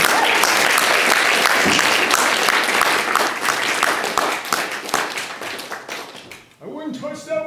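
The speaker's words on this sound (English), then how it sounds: "Let's give her another round of applause for that." A crowd claps and applauds after a puppet act at a puppet slam, steady, full applause that tapers off near the end as voices return.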